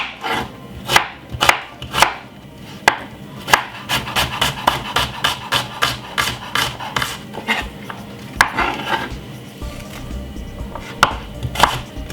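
Fresh thyme is chopped on a board for fried chicken seasoning: a run of sharp, close knife strikes, sometimes in quick rhythmic bursts and sometimes as single chops, with no talking.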